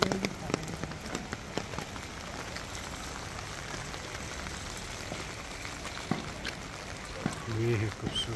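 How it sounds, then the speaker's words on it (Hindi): Rain falls steadily on surfaces outdoors at a Buddhist pagoda in Arunachal Pradesh, a constant patter with scattered louder drops, while voices are heard. "बारिश आ रहा है।"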